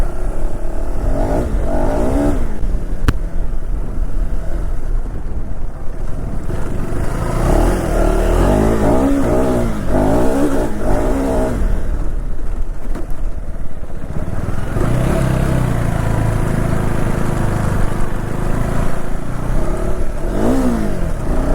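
A KTM Adventure 390 motorcycle engine revs loud and close, with repeated rising and falling throttle blips and sustained high revs over a continuous engine drone, and no talk.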